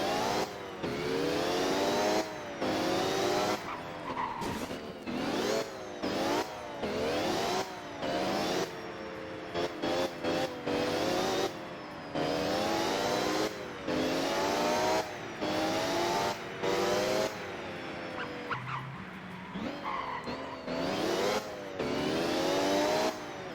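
A truck in the Motor Town video game driving with its tag axle lifted along tight winding paths, the engine revving up and dropping back repeatedly in short bursts as it shifts through gears, loud and close.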